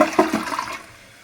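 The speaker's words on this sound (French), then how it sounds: "quand on tire la chasse d'eau" An RV bathroom toilet flushing up close, a sharp gurgling rush of water in a few quick surges that fades into a quieter draining hiss.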